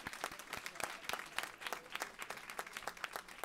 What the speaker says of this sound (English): And now, yes, round of applause for them.